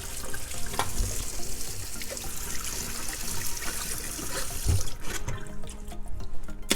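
Cold tap water runs steadily into a sink as a head of cabbage is rinsed beneath it, a close continuous splashing hiss with a brief heavier gush near the end.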